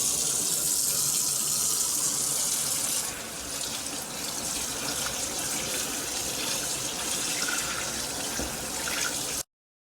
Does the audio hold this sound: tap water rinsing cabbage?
yes